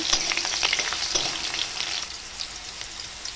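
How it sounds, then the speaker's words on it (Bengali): Cut potatoes crackle and sizzle in hot oil in a pan, with scraping stirs marking the first moments and the frying settling into a steady, close hiss. "এখন কেটে রাখা আলুগুলো দিয়ে দেব, নাড়িয়ে চাড়িয়ে ভেজে নেব।"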